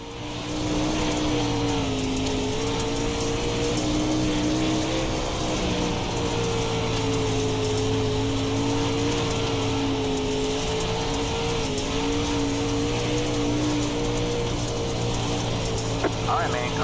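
Sustained race car engine drone from the iRacing sim, a steady near tone with slight pitch shifts through corners, running continuously at a constant level for the whole stretch, with a voice speaking over it.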